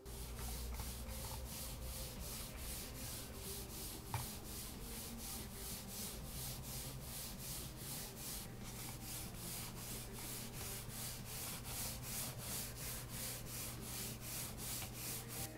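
A computer mouse slides back and forth across Zowie G-SR and Taito mouse pads, giving a continuous close scratchy rubbing with regular rhythmic strokes and no talk.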